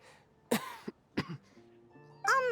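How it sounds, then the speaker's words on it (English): A few short, rough coughs with a throat-clearing sound from a Genshin Impact character, close up, followed by a higher strained vocal noise over a faint background hum. "That is the worst coughing I've ever had an actor do"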